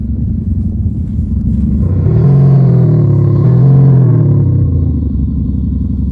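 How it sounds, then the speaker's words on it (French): A BMW 530d F10 with M5 styling and its exhaust set to a Mustang sound mode, revving up from a low idle rumble into a loud, swelling roar that holds for a couple of seconds, then falls back to idle. "je vais vous montrer quand on accélère, par exemple avec celui-ci, donc là qui est le Mustang"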